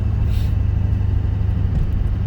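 A 2001 Duramax LB7 diesel pickup with a nasty vibration cruises along the highway. Its steady low engine and road rumble runs continuously from start to end, fairly loud and close, with no voices.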